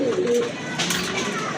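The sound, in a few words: pigeons cooing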